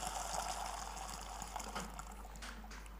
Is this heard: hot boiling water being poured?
yes